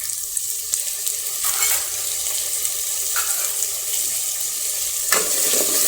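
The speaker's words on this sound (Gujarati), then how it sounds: "હવે આપણે તેમાં ટમેટા નાખી દઈશું." Tomatoes hit a hot oiled pan and sizzle loudly and steadily close by, with a few clinks and stirring scrapes and no talk.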